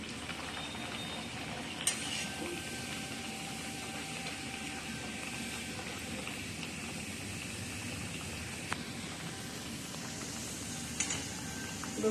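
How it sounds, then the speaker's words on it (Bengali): Khaja sweets frying in a pan for Jagannath prasad, a steady bubbling sizzle of hot oil running throughout with a few sharp clicks and clatters of utensils against the pan. "এই যে এইভাবে ভাজছি এখন"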